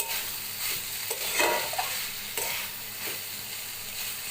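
Paneer and mixed vegetables sizzle with spices in a pan, a steady close hiss of frying interrupted by a few scraping stirs of the spoon, moderately quiet and without voices.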